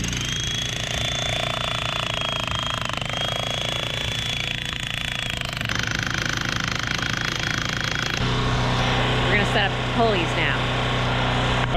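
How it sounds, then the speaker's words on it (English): A jackhammer pounds rock to loosen a crack, a continuous rattling drone at moderate distance, mixed with engine-like rumble and other outdoor machinery noise. "What if you hit right here with the jackhammer?"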